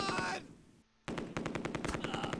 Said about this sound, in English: Sniper's shooting at the mortar team, I think.